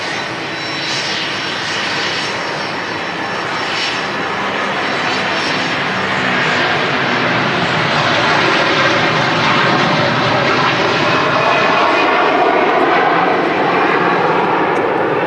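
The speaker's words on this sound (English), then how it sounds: "I will say the sounds today are fantastic from the aircraft. Look at that blasting off, climbing up into the clouds." Aircraft taking off at Manchester Airport, its engine roar loud and continuous for the whole stretch, swelling slightly as the plane climbs away, with no talk over it.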